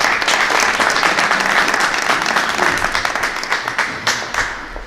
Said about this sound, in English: Let's give a warm round of applause for our police chief